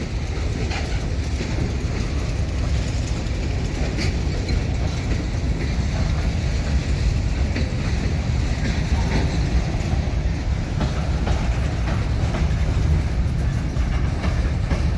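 Wheeling & Lake Erie 617, an EMD diesel freight locomotive in notch 8, hauling a train over jointed rail in the evening; a steady, loud rumble and roar fills the whole stretch with faint rhythmic clicks of wheels over the rail joints.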